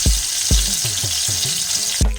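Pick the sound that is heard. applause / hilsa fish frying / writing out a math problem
hilsa fish frying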